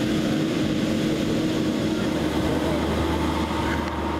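Tractors at a tractor show rumble with a continuous, loud engine drone, steady and unbroken throughout.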